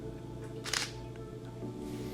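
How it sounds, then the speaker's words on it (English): A single-lens reflex camera fires one quick shutter click at 1/30th of a second, soft and close, over a low steady room hum. "And I'm gonna take that exposure."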